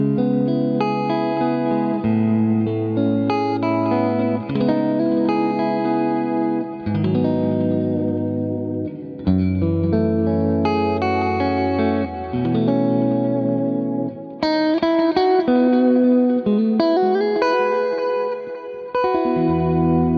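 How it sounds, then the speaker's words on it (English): Clean electric guitar with an ambient, lush tone through a Benson Chimera amp preset on a clean snapshot, heavily compressed. It plays sustained chords and arpeggiated notes, steady and loud, with chorus, echo and reverb washing over a continuous 20-second phrase, no talking. "we're going to start off with David Hislop's clean snapshot, which has a little bit more ambient ready"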